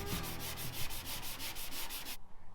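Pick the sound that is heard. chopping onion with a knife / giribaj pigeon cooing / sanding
sanding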